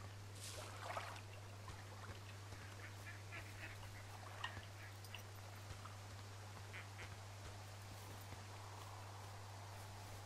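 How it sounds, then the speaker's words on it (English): A duck quacks in the video game Firewatch, short faint calls rising over a quiet forest ambience with a steady low hum beneath, scattered through the stretch with no talking. "A duck?"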